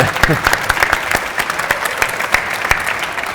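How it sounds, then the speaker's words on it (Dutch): Studio audience applause at a Dutch talk show, a dense wash of many hands clapping with a few sharper claps standing out, steady and fairly loud throughout. "Dus, Applaus!"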